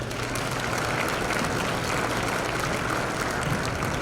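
Steady applause from an awards-event audience for the Tri Cities Chamber in Coquitlam and Port Moody, a dense continuous clatter of clapping hands filling the room without pause.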